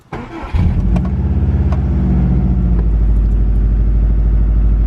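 A Subaru WRX with a misfire problem cranks briefly and catches, then settles into a loud, steady, slightly uneven idle with faint clatter, close up and with no talking.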